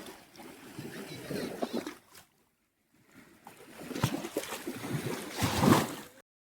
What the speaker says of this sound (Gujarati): પાણીનો અવાજ એટલો સરસ આવે ને,